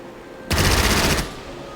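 A burst of rapid machine gun fire from the turn-based strategy game Strategic Mind: Spirit of Liberty, loud and continuous for under a second before cutting off into quiet.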